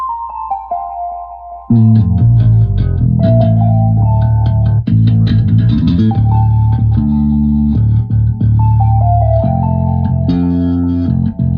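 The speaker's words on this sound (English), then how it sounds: "that's running the JUNO through the Roland Space Echo for the little bit of that delay" A Roland JUNO synthesizer played through a Roland Space Echo tape delay, loud and sustained, with layered chords and bass notes carrying soft delay repeats after a brief quieter opening.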